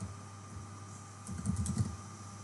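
Computer keyboard typing, a short burst of quick irregular keystrokes up close, starting quiet and growing busier toward the end with no voices.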